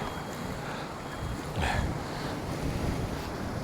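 Strong gusty wind buffeting outdoors, a loud continuous roar with rumbling microphone buffeting that surges slightly midway.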